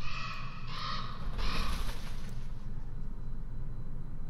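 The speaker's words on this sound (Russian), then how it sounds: "Вороны в церкви. Это что-то новое." Crows cawing inside a church in a medieval video game, several harsh caws in the first two seconds over a steady low ambient drone that continues alone afterward.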